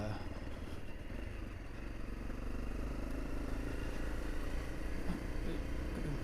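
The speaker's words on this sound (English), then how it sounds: "it's just riding on a seriously like rubbly type gravel" A vehicle rolling over seriously rubbly gravel gives a continuous close rumble with clattering stones and a low engine drone, steady throughout and without clear talk.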